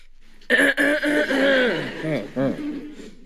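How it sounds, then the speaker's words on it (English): A single close cough breaks out, followed by a voice chuckling and talking briefly, with a short throaty laugh near the end. "Copy everything else except my cough."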